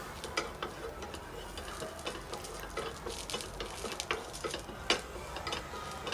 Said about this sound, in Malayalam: കറിവേപ്പിലയും കുറച്ച് പുളിയും അതും കൂടെ റോസ്റ്റ് ചെയ്യുക,